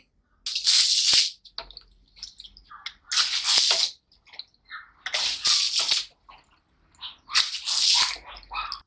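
Water is flung by hand onto the ground of a village courtyard in four separate loud splashing bursts, each about a second long, with quiet gaps and faint drips between them.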